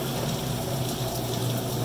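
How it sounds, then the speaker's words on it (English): A GE top-load washing machine drains during its spin cycle, pushing a steady, loud rush of water out through the drain hose, with a continuous hum beneath it and no talk. "Water still blasting out of the drain hose"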